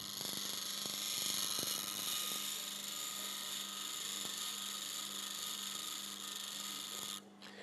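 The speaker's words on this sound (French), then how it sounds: "Faut pas chercher à aller vite avec cette meule" A wood carving gouge is sharpened on a grinding wheel, producing a steady, close, high-pitched grinding rasp that continues evenly before dropping off abruptly near the end.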